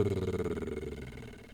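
Lip trill sighed from a middle pitch down to a low one as a vocal warm-up, a steady fluttering buzz with rapid pulsing that drifts downward and slowly fades over its short length.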